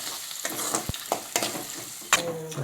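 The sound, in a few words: onions and garlic frying in a pan for masala rice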